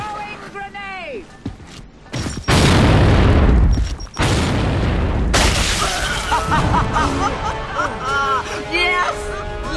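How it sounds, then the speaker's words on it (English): A video game grenade blows up in a Gamebattles 2v2 match on the Old Town map, giving a loud, heavy boom followed by a second blast and lingering rumble, with someone talking over the noise. "Throwing grenade!"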